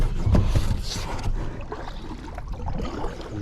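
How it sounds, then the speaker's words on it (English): A rowboat is rowed on open water, with splashing oar strokes and sloshing water close by, in a busy, uneven rhythm. "And I'm gonna get a good workout by rowing"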